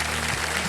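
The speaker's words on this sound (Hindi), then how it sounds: "तालियां बज जाएं" A television quiz show studio audience claps in a dense, steady burst of applause, loud and continuous for under a second.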